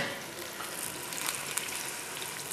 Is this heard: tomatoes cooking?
yes